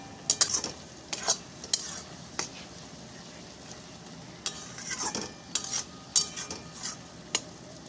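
Spice paste for mutton kosha is stir-fried in a pan: repeated scraping strokes of a spatula in uneven rhythm over a soft continuous sizzle, close up with no talk.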